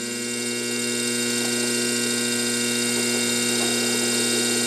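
A DC motor runs up toward 1,000 RPM under a speed control, giving a smooth, steady electrical hum with a faint whine that holds even and unbroken throughout.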